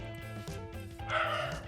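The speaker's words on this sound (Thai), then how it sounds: "เสียงหมาเห่าอีกอ" A dog barks a few times in the background, fairly faint, over a steady layered tone.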